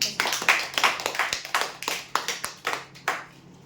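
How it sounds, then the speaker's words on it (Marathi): Audience clapping at a weekly prize draw as a winner of an iron air cooler is announced, a short burst of fairly loud, uneven hand claps close by. "जोरदार टाळ्या"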